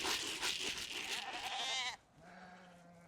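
Sheep on a farm during a winter move bleat loudly in a long, wavering call that cuts off abruptly, followed by a softer, lower bleat further back; no one speaks.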